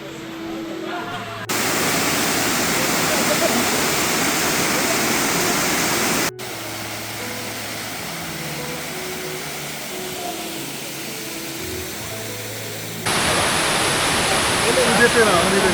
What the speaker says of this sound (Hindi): इस एलिफेंट फॉल्स में 3 फॉल्स है।